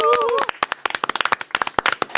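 Studio audience claps to welcome a guest, lawmaker Park Chan-dae, on a Korean talk show; a short run of scattered, fairly loud hand claps follows a brief voice at the start.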